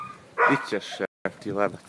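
A pet dog barks and yelps in short bursts at close range, interleaved with a voice speaking over and between the barks indoors.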